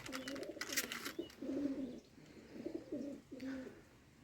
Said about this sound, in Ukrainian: Така парочка диких голубів.